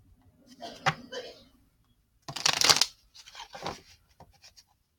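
Crystal Vision Tarot cards shuffled by hand, a rustling riffle burst in the middle followed by softer card flicks, with a voice speaking briefly at the start.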